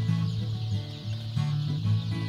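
Many chicks cheep and cluck together in a poultry barn, a dense, continuous flock chatter at steady loudness with a low mechanical hum underneath.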